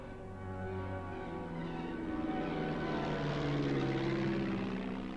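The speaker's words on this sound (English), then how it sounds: "The first planes of the Luftwaffe, the German Air Force, took to the air in full public view." Propeller-driven German Luftwaffe warplanes of the mid-1930s fly overhead in full public view, giving a steady, droning engine roar that swells slightly louder partway through and holds without speech.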